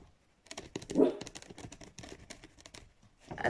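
A dog gives short, fairly close barks and whimpers in uneven bursts, with quiet gaps in between and a louder yelp near the start.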